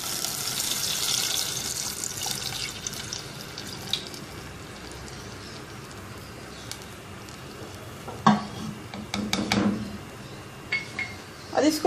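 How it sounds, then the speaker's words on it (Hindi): Two cups of water poured into a pot of mutton cooking in a handi, a steady trickling splash followed by louder clanks and rattles of the pot and utensils, close by, with faint voices underneath. "2 कप के बराबर पानी डालेंगे।"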